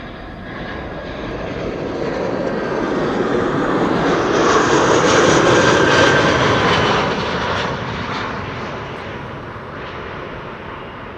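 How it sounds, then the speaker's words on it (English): An easyJet airliner arriving from London Gatwick passes overhead, a broad jet-engine roar that swells from distant to loud and then fades again, with no talk. "EasyJet arriving from London Gatwick."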